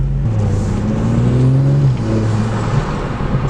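An Audi S4 of the B9.5 generation, fitted with a newly installed aftermarket intake, revs up hard, its engine roar rising and falling in steady, loud pulls up close with no talking.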